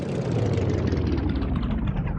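Loud, close exhaust roar from a small car with twin compound turbos, a dense continuous drone throughout.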